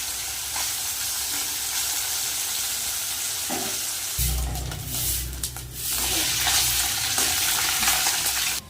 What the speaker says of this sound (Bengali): তেল কিন্তু গরম হয়ে গেছে আমি মোরলা মাছগুলো একসাথেই ভেজে নেব